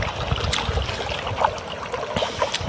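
Irrigation water runs steadily along a channel into a chickpea field, a continuous close trickling and gurgling flow with no one speaking.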